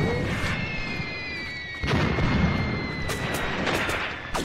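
Mortars fire in Graviteam Tactics during a fight for a village in fog: a dense, continuous bed of battle noise with repeated dull booms and sharper cracks, some near and some distant, under a steady high whine.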